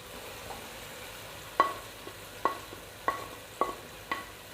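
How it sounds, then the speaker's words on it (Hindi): Fried okra and onions get mixed into masala frying in oil, with a low sizzle underneath and five distinct, evenly spaced spoon knocks against the pan; nobody speaks. "ये भिंडियाँ और प्याज, ये मैं अब इसमें मिक्स कर दूँगी"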